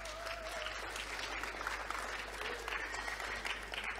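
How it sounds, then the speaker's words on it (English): Audience applause for the speakers at the closing of a tech conference, a steady wash of clapping from a large room lasting several seconds, fairly distant and even, with no talk over it. "give a big round of applause to the speakers as well"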